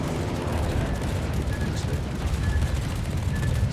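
Battleship New Mexico's shells striking in World of Warships, a dense rumbling roar of impacts and booms, loud and continuous through the whole stretch.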